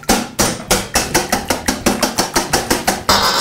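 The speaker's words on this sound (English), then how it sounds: "So give this a big whisk." A whisk beats melted butter into a macaroni and cheese mixture in a bowl, making a quick run of about fifteen sharp rhythmic clacks and scrapes, close and fairly loud.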